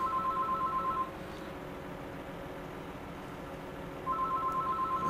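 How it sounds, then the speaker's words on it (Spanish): Telephone ringing in Farming Simulator 2015: a steady two-tone electronic ring sounds for about a second, stops during a long stretch of hissy background noise, then starts again near the end. "Ya está el teléfono."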